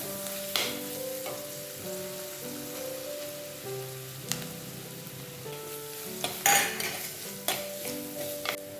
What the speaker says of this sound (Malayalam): സവാള ചെറുതായിട്ടൊന്ന് വഴണ്ട് വരുമ്പോഴേക്കും നമ്മൾ അരിഞ്ഞ് വെച്ചിരിക്കുന്ന ഇഞ്ചി വെളുത്തുള്ളി കൂടെ ചേർത്ത് കൊടുക്കാം.